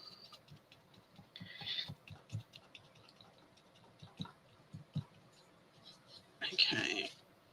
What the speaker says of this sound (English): there is just something about the sound of ripping fabric